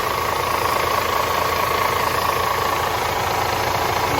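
A DAF CF85 Euro 6 truck diesel engine idling after camshaft work, a steady, loud, even rumble with a faint rhythmic knock throughout and no voices.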